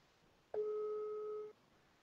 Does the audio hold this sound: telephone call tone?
yes